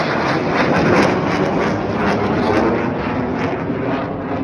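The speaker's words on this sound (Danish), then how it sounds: "en fransk militær airbase, hvor at der er sådan nogle jetfly, der bare med jævn mellemrum bare fyrer op på motoren" Military jet engines roar continuously at a French airbase, a loud, steady broadband rumble that swells slightly and holds for several seconds with no voices over it.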